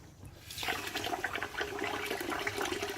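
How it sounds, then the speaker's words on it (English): Hot water runs from a tap, starting after a brief hush into a close, bubbly splashing stream with gurgling fluctuations that continues to the end. "Hot water."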